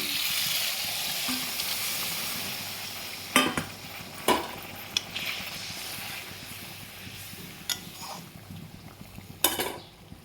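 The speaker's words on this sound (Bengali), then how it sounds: "এখন অল্প জল দিয়ে দেব" Hilsa fish curry simmers and sizzles steadily in a pot after a splash of water, with occasional sharp clinks of a utensil against the pan.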